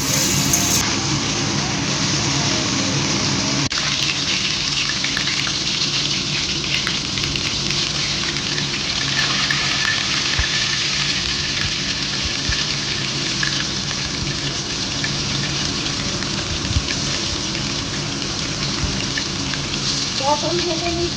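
Pointed gourd and potato frying in oil in a pan, a steady dense sizzle and crackle running the whole time, close and fairly loud, with a few faint voices now and then.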